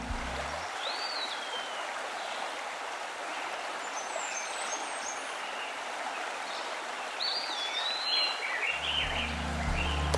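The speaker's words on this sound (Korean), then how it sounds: "자연의 소리를 들려드릴게요." Flowing stream with birds in a natural setting: a steady, broad rushing wash of water, with occasional high chirps and short bird calls above it and soft music fading in and out at the edges.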